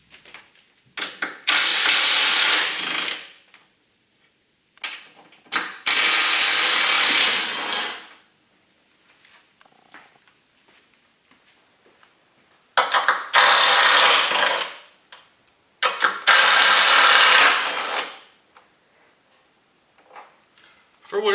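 A power tool spins off the 13 mm strut tower brace nuts on a Ford Mustang, sounding as four loud, rasping whirring bursts of a few seconds each, separated by quiet pauses.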